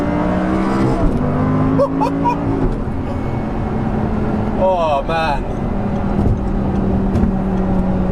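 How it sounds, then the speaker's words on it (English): A naturally aspirated Audi R8 sports car engine revs and pulls up through the range, loud and close, with a sharp rising sweep midway, under a voice talking throughout. "Naturally aspirated engine. So freely revving."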